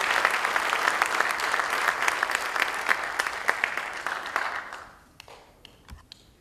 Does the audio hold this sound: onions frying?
no